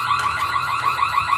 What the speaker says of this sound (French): l'alarme est sonnée